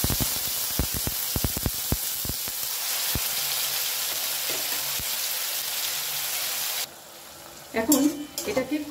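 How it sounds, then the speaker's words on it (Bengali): Blended pointed gourd paste with a pinch of nigella seeds is stirred and fried in a pan to dry out its water: a steady sizzle with repeated sharp spatula scrapes and taps, close up, then quieter clatter near the end. "এখন এটাকে খুব সুন্দর করে নাড়িয়ে নাড়িয়ে এর জলটা শুকিয়ে নেব।"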